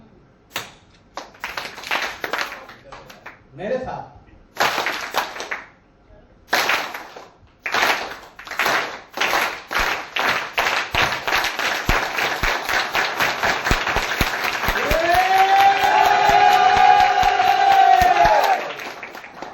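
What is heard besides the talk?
audience clapping in unison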